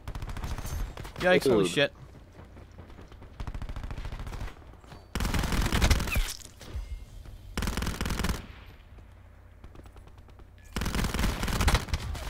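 Daemon submachine gun firing in a video game, several loud rapid full-auto bursts separated by short pauses, with a player's voice exclaiming between them.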